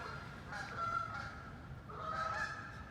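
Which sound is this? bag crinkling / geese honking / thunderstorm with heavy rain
geese honking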